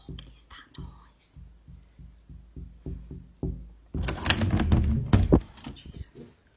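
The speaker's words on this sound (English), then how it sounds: "It's bloody tapping on the door." Someone taps on a door with about a dozen soft, evenly spaced knocks. Then comes a sudden loud burst of rustling and breathy noise.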